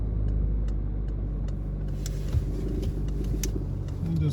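A car moves away from a driving test centre, its engine running as a steady, fairly close hum, with light ticking from a turn signal early on.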